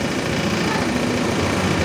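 Honda motorcycle engine idling around 1600 RPM, a steady close low rumble with a constant even texture and no speech.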